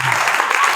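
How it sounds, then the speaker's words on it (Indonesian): An audience at a religious gathering breaks into loud, dense applause for Al-Khair. The burst of clapping is close and continuous but very short. No voices are heard. "Tepuk tangan untuk Al-Khair hari ini"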